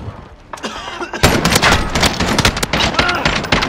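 Rapid automatic gunfire from the video game Call of Duty: Modern Warfare starts after a brief lull and rattles on as loud, close, overlapping bursts.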